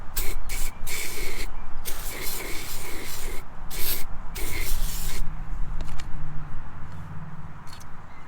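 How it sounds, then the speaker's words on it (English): PB Blaster penetrating spray hisses in short bursts onto a frozen part of a Honda mower during drive belt work, several quick sprays close to the microphone followed by quieter handling. "let's get some penetrating spray and spray"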